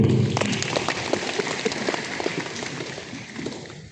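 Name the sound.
audience applause at an event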